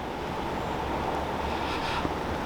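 Steady wind buffeting at a chilly lake edge near Slapton, a continuous broadband rush with light gusts and no voices.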